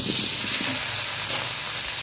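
Potatoes fry in hot oil in a pan with a loud, steady sizzle, close and continuous over a brief moment, cutting off abruptly at the end.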